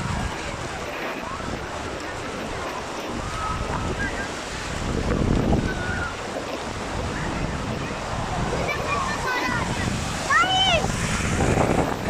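Sea waves wash and surge onto a shore with gusty wind noise on the microphone, while voices talk and a child calls out over the surf.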